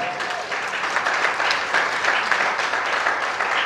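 Steady applause from a conference audience, a dense, sustained clapping that fills the whole stretch at a fairly loud, even level without letting up.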